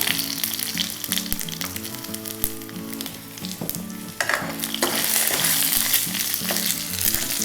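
Loud, steady sizzling of tempering spices with asafoetida frying in hot oil, with stirring and clinks throughout, a brief dip near the middle before the crackle swells again.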